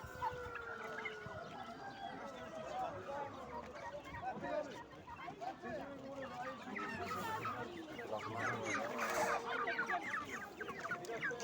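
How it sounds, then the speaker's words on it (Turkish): Turkeys and other fowl gobbling and clucking at a busy poultry market in Konya, the calls dense and overlapping, with crowd chatter and people talking over them throughout. "Hindiler."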